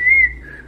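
A single person whistles a short, clear tone that wavers slightly in pitch, close and fairly loud, with nothing else around it.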